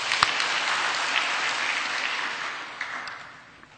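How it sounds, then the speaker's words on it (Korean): A church congregation applauds after a prayer at an officers' seminar in a Daegu church, a steady wash of clapping that tapers off toward the end. "박수하겠습니다."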